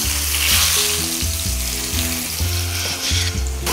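A rolled bundle of thin beef steak wrapped around pumpkin sizzles steadily in a hot pan, a loud continuous crackle close up, with low melodic background music underneath and no talking.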